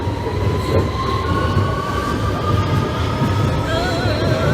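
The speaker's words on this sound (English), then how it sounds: "This is a bit too close to the train for my liking." A London Underground train rumbles past at close range, loud and continuous, with high squealing wheels ringing over the steady roar.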